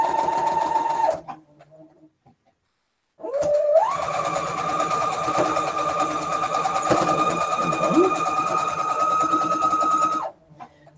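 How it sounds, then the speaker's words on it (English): A Brother SQ9185 computerized sewing machine stitches in two runs, a short burst, a pause, then a long steady whirring hum with a rapid mechanical beat, loud and close, ending abruptly. "This brother sewing machine is computerized, and the model number is SQ9185."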